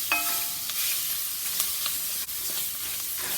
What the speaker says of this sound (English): we're going to let the onions cook for 5 to 6 minutes until they're soft